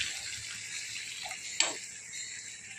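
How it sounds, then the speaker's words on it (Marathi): A quiet, steady trickle of water poured into a cooking pan of sautéed pumpkin, with a short splash partway through, close by and faint, no voices. "आता थोडंसं पाणी टाकत आहोत आपण"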